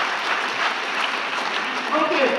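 An audience applauds enthusiastically at a strategic plan launch event, a dense steady wash of clapping from a mid-sized crowd lasting a couple of seconds, with a voice briefly audible near the end.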